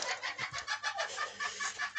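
Domestic chickens, two roosters and a hen among them, cluck repeatedly in a quick, pulsing rhythm, close by and fairly quiet.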